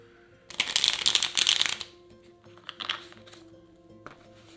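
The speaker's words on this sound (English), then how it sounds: "We can do a little bit more shuffling here first." A large deck of Wingspan board game cards, base set mixed with Asia expansion cards, is riffle-shuffled up close: two loud crisp bursts of flapping cards, then softer riffles and a final short one.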